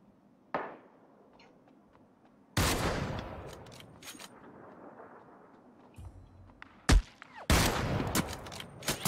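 Gunfire cracks down from a mountain in the game Ring of Elysium, with a few sharp, loud shots and short bursts spaced across several seconds over a quiet background.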